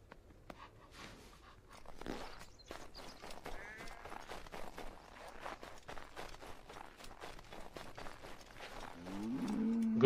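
A cow moos in the farmyard of Assassin's Creed III, one drawn-out low call near the end, preceded by steady hoof-like footsteps and clip-clop plodding.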